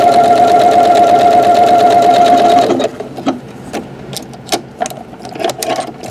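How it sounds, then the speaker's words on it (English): A Janome sewing machine with its buttonhole maker attachment stitches a buttonhole, a fast, loud, even mechanical whirring for nearly three seconds, then stops and gives way to scattered clicks and handling noises. "Alright, let's make a buttonhole."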